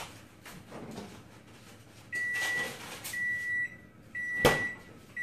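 An oven sounds a series of high electronic beeps, some sustained and some clipped, to signal it has finished preheating, close by in a quiet kitchen, with one brief clatter partway through.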